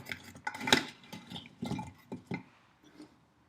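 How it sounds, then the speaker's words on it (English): A spoon stirs lye into a goat milk soap mixture, producing irregular light scrapes and clinks against the container, close and fairly quiet, fading out over the last second. "All I do is I add the lye, spoonful by spoonful, very slowly, stirring as I go."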